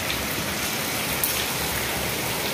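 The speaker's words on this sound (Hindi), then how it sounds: "बहुत तेज़ बारिश है।" Heavy rain pours down steadily in a dense, continuous hiss of drops striking surfaces nearby, with no voices.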